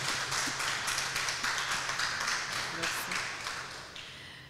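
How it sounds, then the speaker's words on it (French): Fairly quiet applause from an audience welcoming a guest filmmaker at a cinema club master class, an even patter of hands that slowly fades toward the end, with some talk underneath. "Je voudrais donc que vous applaudissiez pour Madame Ramatou Keïta qui a accepté notre invitation."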